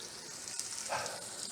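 Onions sautéing over high heat in a pot for lentil soup give a steady, close hiss of frying, with a short brighter sizzle partway through and no voices.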